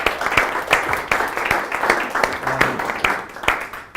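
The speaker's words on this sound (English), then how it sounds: "Let's give him a round of applause as he starts." Moderate applause from a tech startup event audience welcoming a speaker, with distinct individual claps standing out over a murmur of voices.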